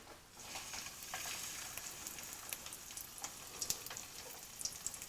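A breadcrumb-coated pork fillet fries in a pan with a soft, continuous crackle and sizzle, fairly faint, with occasional sharper pops.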